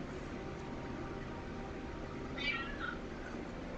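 A single short meow from a pet cat indoors, heard faintly over a steady low hiss of background noise.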